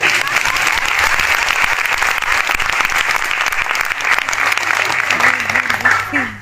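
An audience at a meeting in Ahmedabad applauds loudly and steadily for several seconds, the clapping tapering off at the end as a voice begins to speak.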